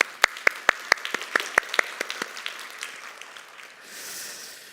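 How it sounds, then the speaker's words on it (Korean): Applause at a Sunday church worship service as the congregation welcomes back a returning member of the Cambodia mission team, opening with sharp distinct claps that thin out and fade within a few seconds, with no talking. "우리 박수로 한번."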